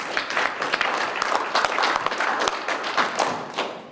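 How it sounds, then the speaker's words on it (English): A short burst of audience applause at a community meeting for three speakers, close, dense clapping from a modest crowd with a few sharp individual claps standing out. "let's give our three speakers a quick round of applause"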